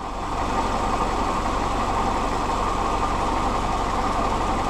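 A Willys jeep engine with a head gasket or engine crack repaired with waterglass idles steadily with an even, low rumble, running continuously and unchanging throughout.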